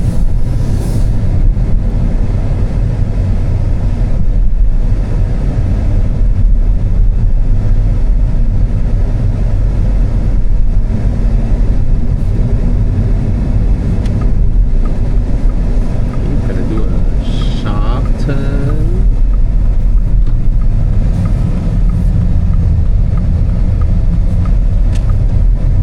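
Loud, steady road rumble and tire roar fill the cabin of a moving new MINI Cooper, continuous and droning throughout with no letup.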